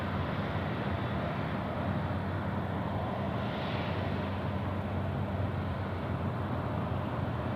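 An airplane on approach to land at Sydney Airport on runway 34 left, heard as a steady, broad engine roar. It stays fairly loud and even throughout, with no voices.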